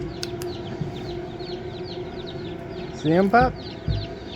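Small chicks peep in a busy chorus at a farm with a young rooster among them, and soft clucks rise briefly near the end. Someone speaks close by.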